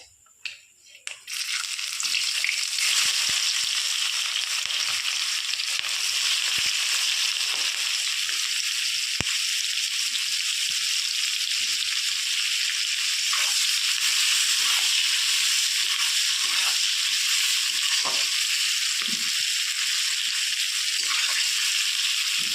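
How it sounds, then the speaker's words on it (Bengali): After a short quiet start, chopped onions hit hot oil with bay leaves and a bright, continuous sizzle of frying carries on steadily, with faint occasional stirring noises. "পেঁয়াজটা একটু লাল করে ভেজে নেব"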